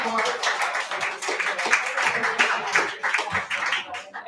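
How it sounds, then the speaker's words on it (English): Audience applause after a reading at a poetry and pints event, a dense crowd clapping steadily throughout with chatter and voices mixed in, moderately loud and close. "Round of applause."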